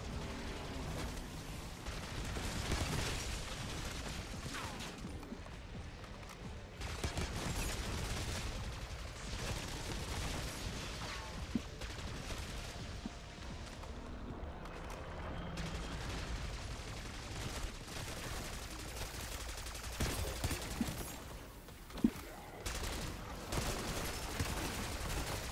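Sustained automatic gunfire at the Terminus boss's arms in the Black Ops 6 video game, with bursts of shots and the occasional louder impact running steadily throughout the fight.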